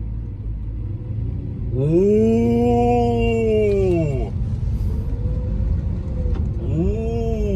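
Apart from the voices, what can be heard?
used Lamborghini car driving off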